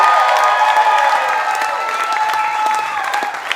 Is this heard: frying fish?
no